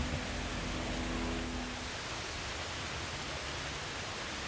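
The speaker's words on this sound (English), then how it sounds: "That's the waterfall here at the Japanese Tea Garden." The waterfall at the Japanese Tea Garden in San Antonio pours in a steady, close, broadband rush of falling water, with a brief low hum at the start and no talking.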